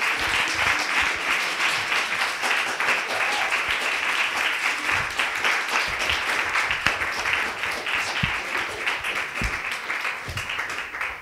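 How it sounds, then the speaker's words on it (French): An audience applauds guests arriving on stage at a poetry evening, producing a long, even wash of many hands clapping at close range, loud and unbroken with scattered sharper claps. "Je vous propose d'applaudir nos invités que nous allons accueillir sur notre scène."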